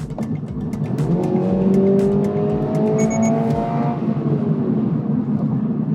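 A Subaru BRZ 2.4 with a six-speed automatic accelerating hard, engine revving up through a rising, loud droning pitch, then easing off, with steady road and tire noise.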